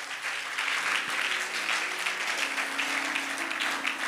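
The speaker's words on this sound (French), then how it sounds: "Est-ce que quelqu'un peut acclamer pour le Seigneur?" A church congregation claps and cheers in sustained, dense applause for the Lord during a French-language sermon, steady and full throughout with no break.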